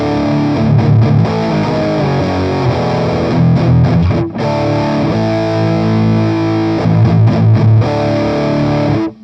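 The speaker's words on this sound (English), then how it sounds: "I guess we found our high gain amp." Electric guitar played through a simulated Orange high-gain amp in AmpliTube 5 software, thick saturated distortion ringing out in sustained chords with brief choppy breaks, loud and continuous with no talking.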